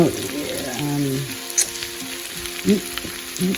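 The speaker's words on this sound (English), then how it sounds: "You want them to sizzle" Potatoes sizzle and crackle softly in a frying pan, with light scraping and clinking of utensils.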